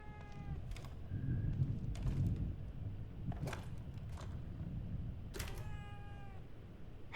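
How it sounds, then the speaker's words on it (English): A cat in The Evil Within 2 meows several times, short clear cries spaced a second or two apart over a low rumbling game ambience, with no talking. "Hey kitty, thanks for getting us our last collectible. You're a good kitty,"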